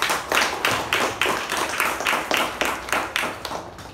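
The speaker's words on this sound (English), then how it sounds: "Let's give her a huge round of applause" A small meeting audience claps in a steady, even rhythm, roughly three strong beats per second, fairly close and loud with little talk.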